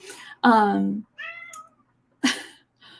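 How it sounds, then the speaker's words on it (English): A domestic cat meows loudly and clearly, a drawn-out harmonic call followed by a few shorter, fainter mews, breaking into an otherwise quiet indoor recording with a person speaking around it. "I'm so sorry, that is my cat."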